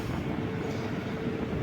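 A MEMU passenger train running from Changanassery toward Kollam rumbles along the rails, a steady low wheel-and-carriage roar heard from inside the moving train with no talking.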